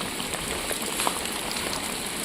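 Rain falls at a dam, a steady faint hiss of drops with soft scattered patter and no voices, continuous for a couple of seconds.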